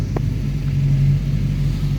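A VW Passat with an individual throttle body engine maneuvering while still cold, a steady low rumbling engine note heard close up without speech.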